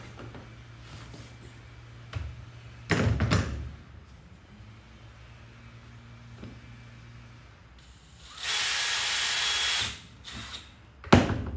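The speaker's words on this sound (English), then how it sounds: "So we'll drill through all 4 of them at once." A power drill bores through four stacked pieces at once, with short bursts of drill noise, then a longer steady whirring run and a final sharp stop, heard close in a quiet workshop.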